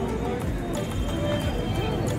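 A horse's hooves clip-clop along a busy street in Agra, a steady beat half-buried under continuous crowd noise and nearby conversation.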